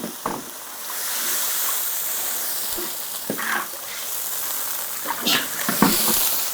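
Water poured into a hot chili-oil base for spicy Mao Xue Wang sends up a broad, continuous sizzle and hiss, broken by scattered clinks and scraping of a utensil against the wok.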